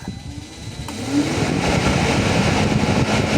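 A Renault's radiator cooling fan is switched to high speed, rising after a second into a loud, steady whooshing roar close by that holds evenly to the end.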